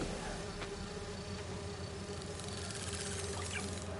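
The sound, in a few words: bee wolves buzzing in video game Spider-Man 2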